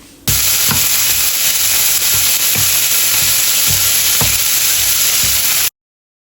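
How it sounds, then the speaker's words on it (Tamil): Boiled broccoli, carrot and potato with pepper being stir-fried in a pan, a steady loud sizzle running throughout with periodic scraping stirs roughly every half second to second, no talking. "எல்லாத்தையும் போட்டு மிக்ஸ் மிக்ஸ் மிக்ஸ்."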